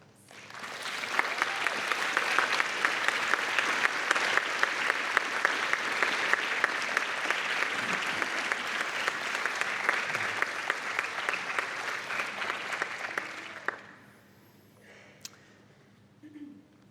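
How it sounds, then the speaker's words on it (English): Graduation ceremony audience at Bond University applauding steadily for about thirteen seconds, a dense loud clapping that fills the hall, then cuts off abruptly into quiet room tone with a faint murmur. "by your applause, acknowledge and thank their generosity and support of you."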